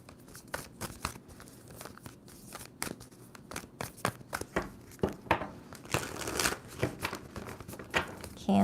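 Tarot deck being shuffled by hand, a series of quick papery riffles and card slaps in irregular bursts, fairly close and moderately loud, with a faint voice in the background at times.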